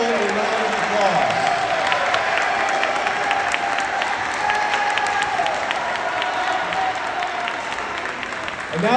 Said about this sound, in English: let's give everyone, our A honor roll and our AB honor roll, a round of applause